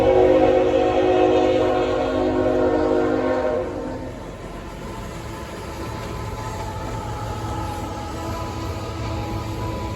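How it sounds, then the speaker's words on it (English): A train approaching in northern Minnesota, heading south, sounds its horn in long steady blasts that cut off midway, leaving the rumbling roll of rail cars passing close by. "Here comes a train."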